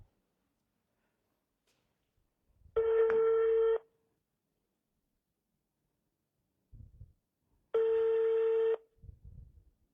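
Phone ringback while calling a lottery prize winner: two steady ring tones, each about a second long and about five seconds apart, quiet, with brief faint murmurs between them.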